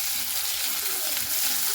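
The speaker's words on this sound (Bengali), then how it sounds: "ক্যাপসিকামটাকেও দিয়ে খুব সুন্দর করে নাড়াচাড়া করে নেব" Onions and capsicum fry in a pan under steady stirring, a continuous close sizzle with soft scraping throughout.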